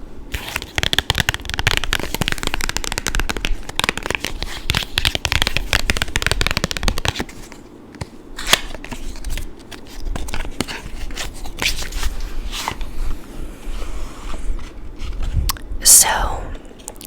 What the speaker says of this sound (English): let's go ahead and pull cards from the traditional tarot deck first